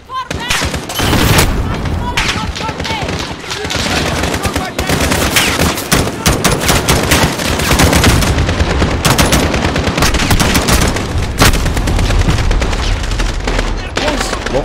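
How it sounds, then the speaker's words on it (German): Dense gunfire and explosive booms fill a Call of Duty Modern Warfare (2019) firefight, with a grenade going off amid continuous loud machine-gun bursts; a voice speaks over the chaos. "Und nochmal eine Granate raus"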